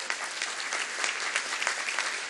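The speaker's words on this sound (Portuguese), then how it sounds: "Uma salva de palmas para o nosso ministro Joaquim Levy." An audience at a port terminal inauguration in Rio de Janeiro applauds a minister, giving a dense, steady burst of many hands clapping, somewhat distant and without voices over it.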